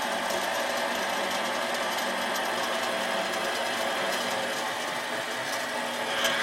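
A metal lathe cuts threads, giving a steady, continuous mechanical whir with a dense hissing texture and faint repetitive ticking, at an even level throughout with no talking.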